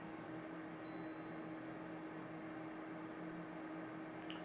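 A fan oven runs on its low fan bake setting at 140 degrees, giving a steady airy hum with a constant low tone. One brief high whine sounds early, and a faint tap comes near the end.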